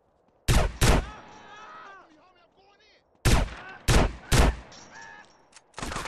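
Gunfire in GTA San Andreas during a gang war: sharp, loud shots come in two bursts, a pair early and then a tight cluster of three or four, with quieter game ambience and a voice between them.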